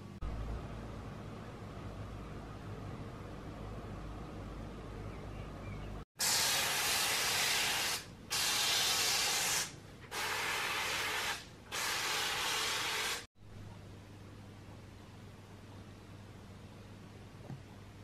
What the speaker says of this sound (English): I'm just going to give this one really, really good coat of Lanolin on the underside and the top side